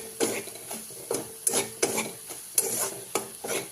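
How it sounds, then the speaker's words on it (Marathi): Spice mixture for a yellow moong dal (mugachi aamati) being stirred and sautéed in a pan: a spoon scrapes in a quick, uneven rhythm of about ten strokes over a soft sizzle, close and moderately loud, with no voices. "पूर्ण मिश्रण आपण परतून चांगलं घेऊया"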